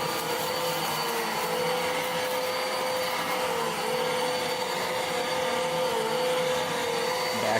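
A vacuum cleaner deep-cleans carpet with a steady, loud, continuous motor roar and whine that holds unchanged throughout, with no voices.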